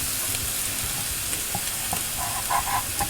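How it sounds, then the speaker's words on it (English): Venison sears in a very hot pan with a steady, loud broadband sizzle, a few brief stirring scrapes and clinks near the end, and no voices. "So at this point I got the pan really hot. I just want to sear it pretty quick, not trying to cook it."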